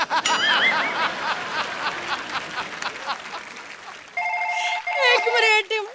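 A telephone rings on a TV comedy stage, a repeating electronic trill coming in after audience laughter and chatter, fairly loud and clear in short bursts.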